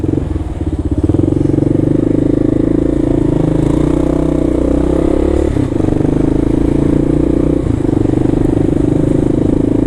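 A motor scooter, apparently larger than 49cc, around 150cc, speeds past on a New York City street at roughly 35 to 40 mph, its steady engine drone loud and close throughout with some clatter.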